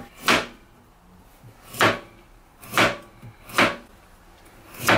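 Carrot sliced thinly on a cutting board, five distinct knife strokes landing about a second apart, each a crisp, fairly close chop with a brief swishing tail and no talk.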